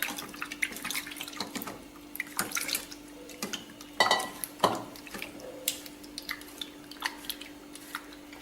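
Tap water runs steadily over aloe vera leaves being washed in a sink, with intermittent splashes and clatters of handling close to the microphone.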